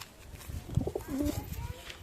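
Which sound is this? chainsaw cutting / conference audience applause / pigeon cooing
pigeon cooing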